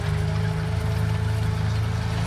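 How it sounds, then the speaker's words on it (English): The Maybach engine of a restored WW2 Tiger tank drones steadily at close range, a deep rumbling idle with a throbbing pulse and no voices. "Just hear that Maybach engine stepping out."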